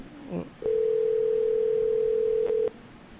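A telephone line emits a single steady dial tone lasting about two seconds during a call-in, loud and clean, preceded by a brief voice fragment.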